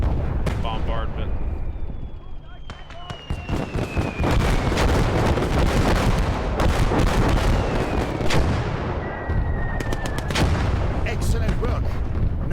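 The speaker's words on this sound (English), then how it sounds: "And you can see the bombardment." Artillery bombardment in Gates of Hell sends heavy booming blasts and rumbling explosions in a continuous loud barrage, with whistling incoming shells and scattered gunfire, and a voice speaking over it.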